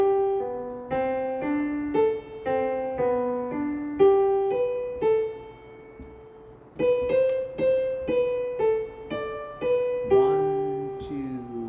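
A Christmas choir song melody is played on an instrument as a single line of clear, sustained notes in steady phrases, with a short pause partway through and a sliding note at the end.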